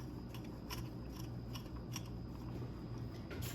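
Knife cutting through a peanut butter and marshmallow fluff sandwich, a series of soft, quiet crunching strokes repeating at a steady pace close to the microphone against a low background hum.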